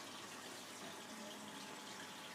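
Water steadily draining out of a 700-litre aquarium during a water change, a constant broadband rush with no breaks, fairly quiet and alone.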